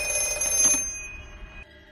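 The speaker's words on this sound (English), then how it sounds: "The phone rings while Finney is sleeping." A telephone rings during a horror film scene, a sustained electronic bell tone lasting most of the moment before cutting out, at moderate volume with no talking.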